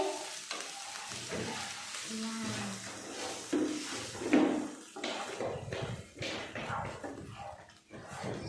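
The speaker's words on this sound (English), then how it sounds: "Then nicely mix it." A fish egg fry mixture being stirred in a pan, with scraping and clinking spoon strokes over a steady sizzle. A voice talks throughout.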